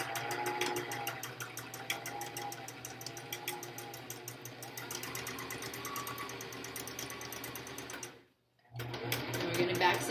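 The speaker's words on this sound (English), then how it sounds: "You can see I don't have the best sewing machine in the world, but it works for me" A home sewing machine stitching an N95 mask cover runs steadily with a fast, close mechanical whir and needle ticking. It stops briefly near the end, then starts again.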